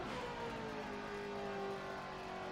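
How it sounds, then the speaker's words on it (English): A NASCAR-style stock car engine in Forza Motorsport 7 drones steadily and loudly throughout, a sustained motor tone holding close with little change. "this really sounds like a stock car"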